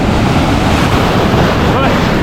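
Ocean surf at a Hawaii beach with currents pulling and waves from several directions, a loud, continuous wash of water heavily mixed with wind buffeting the microphone.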